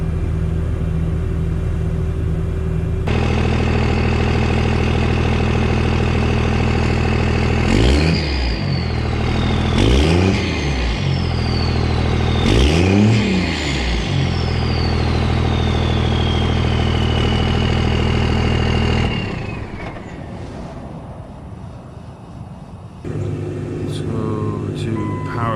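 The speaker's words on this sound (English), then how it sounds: "I'm gonna get an exhaust clip, a little rev" A Cummins diesel farm truck engine idles with a deep, steady rumble through its exhaust, then revs sharply three times in a row, each rise and fall distinct and loud, before dropping back to a lower idle.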